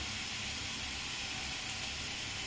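A paste of onion, ginger, garlic and green chili fries in oil, making a faint, steady, even hiss with no breaks.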